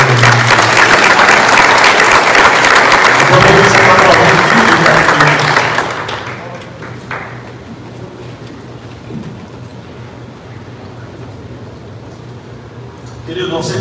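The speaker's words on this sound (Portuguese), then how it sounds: "Aplauda Jesus por Deus." A church congregation applauds during a Portuguese-language worship service, loud and dense clapping that breaks off abruptly, leaving a quiet room hum and faint murmurs.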